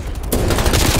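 Machine gun fire in Call of Duty on the Nuketown map: a short, loud burst of rapid shots that starts after a brief quieter moment and rattles on close.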